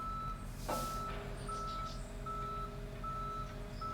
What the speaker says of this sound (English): Tow truck's grabbing the suspect's vehicle.